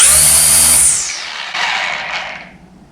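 Black & Decker LSTE525 battery-powered string trimmer running on its lower speed 1, a loud close whirring motor whine that drops in pitch and winds down, then briefly surges before fading out, with no speech.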